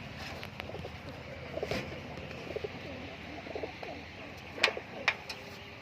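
Several soft coos from nichey baji tumbler pigeons in a loft, scattered over quiet background noise, with a few sharper flutters and knocks near the end.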